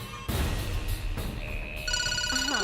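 A telephone ringtone starts up partway through, a bright repeating electronic melody that rises over a dense, noisy background and carries on to the end.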